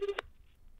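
A brief burst of touch-tone telephone dialing, with a tone and a quick beep in the first fraction of a second before it drops to quiet line noise.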